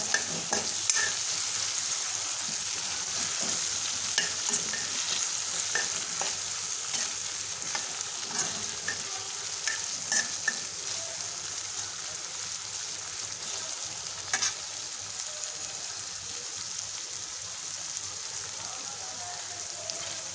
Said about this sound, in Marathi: मस्त एक दोन तीन 4-5 सेकंद आपण मस्त हे पनीर भाजून घेऊ।